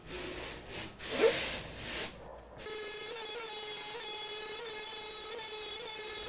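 A brief rough burst of cutting noise as a router cuts a circle in wood on a circle-cutting jig, then a steady high-pitched whine runs on continuously at moderate volume.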